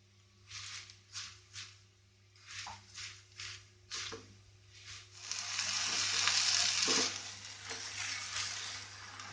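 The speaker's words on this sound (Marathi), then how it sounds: "आता ते सगळे सुकून येईपर्यंत आमकां अशें धवळीत रावपाक जाय, बरें मिक्स करून घेवपाक जाय" A potato and sugar mixture for Goan potato barfi is stirred in a pan, giving bursts of scraping and a steady sizzling hiss that swells and holds toward the end, close and alone without talk.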